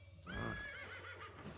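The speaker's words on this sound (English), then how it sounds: "I'll just get back up on my horse here." A horse in the video game Albion Online lets out a loud, clear neigh that rises and then trails off in a long whinny, with a soft thud at the end.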